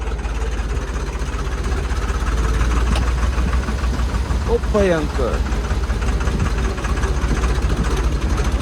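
Tractor engine running steadily throughout, a continuous low rumble on a road trip through the Spiti mountains. People talk loudly over it.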